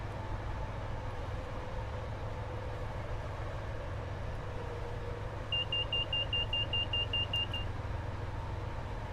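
An HSP46 locomotive in Train Sim World 5 sends out its overspeed warning as a run of about ten quick, evenly spaced high beeps over a steady low engine and rail drone.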